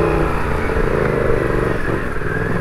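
A motorcycle ridden along a sketchy, slippery old road with mud ahead, its engine droning loudly and steadily with faint rattling and small shifts in pitch.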